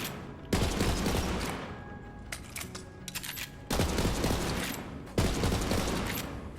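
A legendary burst-fire gun in Borderlands 3 fires loud, tight bursts of shots separated by pauses filled with mechanical rechambering clatter, repeating through the clip with no voices.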